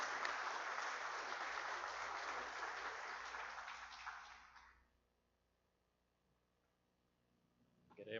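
An audience at an opening lecture on automating professional work gives a speaker a loud, full round of applause. It holds steady for several seconds, then fades quickly into near silence, with a faint sound returning at the very end.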